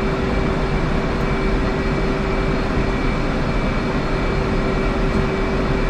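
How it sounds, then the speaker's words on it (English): A fixed-wing aircraft taxiing off the ramp in the DCS World flight simulator, its engine giving a steady, loud drone with a constant whine that holds unchanged throughout, with no voices. "Taxi off the ramp here, off the runway."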